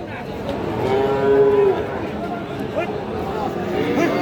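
At a busy rural cattle market in Ghoraghat, Dinajpur, where Friesian and crossbred bull calves are sold, one cow gives a long, clear moo nearby. Murmuring voices and market bustle continue underneath.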